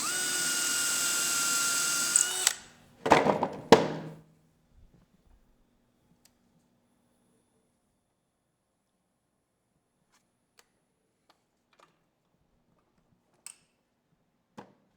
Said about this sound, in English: here's my drill, and I've got a piece of tape on it